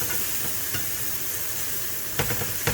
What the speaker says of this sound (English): And then I'm going to go ahead and add my onions and tomato. Just going to mix it.